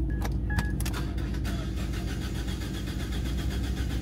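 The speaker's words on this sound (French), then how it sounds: "Les gars, la voiture elle démarre pas." A car engine with an empty fuel tank cranks repeatedly without catching, a steady mechanical grinding with a few sharp clicks near the start, close and loud.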